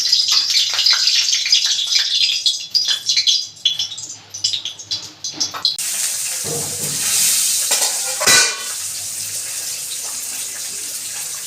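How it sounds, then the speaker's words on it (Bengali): Pabda fish frying in hot mustard oil in a wok, a dense crackling sizzle that swells partway through and then holds steady and close after some earlier clattering and splashing. "এবার আমি মাছগুলো ভেজে নেব।"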